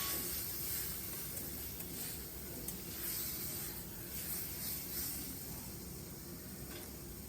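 Steady soft hiss of boiled bottle gourd sizzling in hot spice tempering oil in a pan, constant and fairly faint throughout, with no voices.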